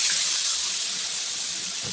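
Fish sauce poured into a hot wok of spicy Thai chicken stir-fry hisses loudly and steadily, the burst fading slightly over two seconds, no voices.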